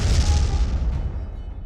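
A single loud, deep boom with a rushing burst that decays quickly into a low rumble, heard alone.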